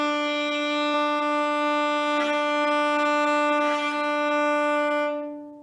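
Bowed string note played with heavy arm weight, giving a solid, steady tone with strong sustained harmonics and a few faint scratchy bow changes, held alone for about five seconds before fading out.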